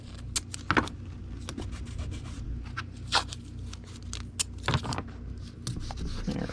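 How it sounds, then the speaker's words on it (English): A Gemini mailer is taped shut, with short bursts of tape being pulled and pressed mixed with rustling and handling clicks, close by and without speech. "Let's tape it so it doesn't move around."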